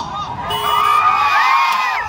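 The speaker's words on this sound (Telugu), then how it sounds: "ఒకసారి గట్టిగా చప్పట్లు కొట్టి మనం ఓగొడదామా?" A crowd at a shopping mall grand opening cheers and whoops loudly, with excited shouts and high rising voices swelling together over a dense, sustained roar.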